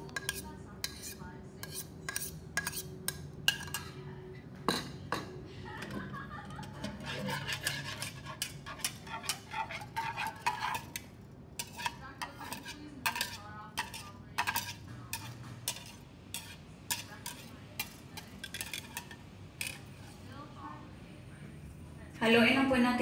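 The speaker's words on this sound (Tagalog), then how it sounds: "paghaluin na po natin lahat yung ingredients, yung wet and dry." Wet and dry bread roll dough ingredients being mixed in a bowl, giving irregular scraping, clicking and rubbing strokes of a utensil against the bowl, close and moderately loud, with a louder burst of handling at the end.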